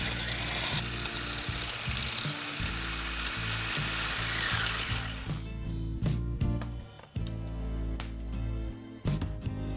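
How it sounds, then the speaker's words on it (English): An electric whisk beats vegan tiramisu cookie batter with sugar and vanilla extract until glossy, starting as a loud, steady high whir for several seconds, then dropping to a lower, uneven motor hum with brief pauses. "Then I add sugar, a spoon of vanilla extract, and whisk again until glossy and light."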